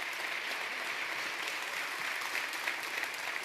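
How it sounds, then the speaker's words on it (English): Steady applause from a press conference audience at the EuroLeague Final Four opening in Athens, a dense even wash of many hands clapping together, moderately loud and unbroken throughout. "A round of applause, please."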